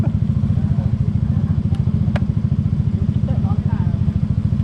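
Modified motorcycles rumble with a loud, throbbing low-pitched engine drone that stays close throughout, with faint voices and a couple of sharp clicks over it.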